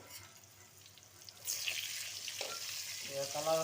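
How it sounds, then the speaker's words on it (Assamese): Pieces of pointed gourd (patol), slit so oil seeps in, begin frying in oil: after a quiet start a sudden bright sizzle rises and holds steady, with a faint voice near the end. "অলপ অলপ ফ্ৰাই কৰি দিছোঁ, কাটি দিছোঁ যাতে তেলটো ভিতৰত সোমাই যায়।"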